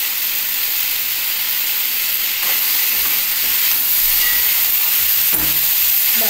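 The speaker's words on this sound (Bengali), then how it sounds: "লাল করে ভাজা হয়ে গেল পটলটা, এবং তার মধ্যে ভাজতে ভাজতে যে আলু ও পটলটা সিদ্ধ হয়ে গেছে" Pointed gourd and potato fry in a pan, giving a loud, continuous sizzle and hiss with occasional scraping stirs.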